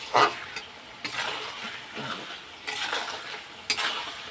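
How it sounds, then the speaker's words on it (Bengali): Spices and salt sautéing in oil in a pan for a Bengali cabbage curry, a steady sizzle broken by repeated scraping strokes of a spatula against the pan, close and fairly loud, with no talk. "একটু কষিয়ে নিয়ে দেখো নুনটাও দিয়ে দিলাম আন্দাজ করে।"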